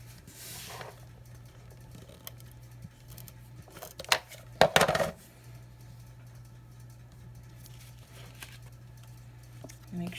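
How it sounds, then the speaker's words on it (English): Scissors snip ribbon while making a hand-stamped card, giving a short cluster of crisp cuts in the middle over a quiet background hum. "I'm going to just cut that a little short."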